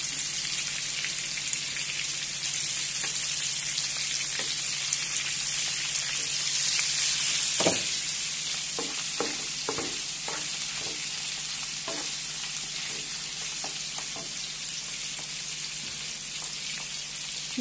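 Eggplant stuffing with peppers frying in a pan, a steady bright sizzle with intermittent scraping and clacking stirring strokes, close and continuous throughout.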